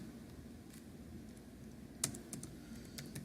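A computer keyboard clicks faintly as code is typed, with a few distinct sharp keystrokes over a low steady hum in a quiet room.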